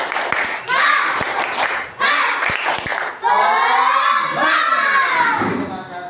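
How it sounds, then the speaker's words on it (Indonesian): Schoolchildren in a classroom perform a rhythmic spirit clap, sharp group claps in short patterned bursts mixed with loud chanting and shouting voices, ending in a long sustained group shout. "Tepuk semangat."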